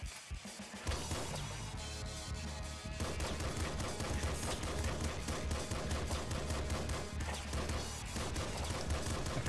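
Pistol fire in the top-down shooter Nuclear Throne: a dense, continuous run of punchy shots and crashes layered over steady game music, loud and busy throughout with no speech.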